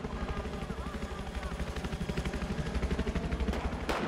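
Helicopter rotor thudding in a Battlefield 4 multiplayer match, a steady rapid pulsing drone mixed with gunfire bursts and a sharp crack near the end, with voices talking over it.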